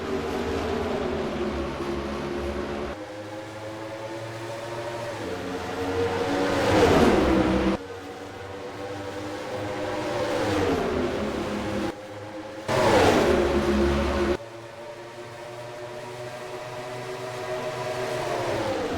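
Stock cars restart at Atlanta Motor Speedway in the Celsius 500 Stock Car World Cup, their engines climbing up through the gears in loud rising whines, with several cars surging past in distinct waves.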